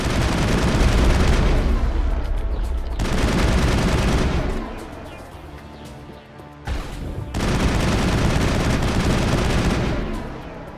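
Sustained bursts of heavy gunfire from a gun in Mass Effect, loud and dense, rattling in long continuous stretches with a brief lull and a sharp restart partway through.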